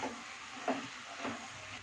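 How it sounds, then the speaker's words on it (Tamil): Bottle gourd and peanut curry is stirred in a pan, a faint, soft sizzle with a couple of light scraping stirs, quiet and steady. "இது சேர்த்து ஒரு கிளறி விடலாம்."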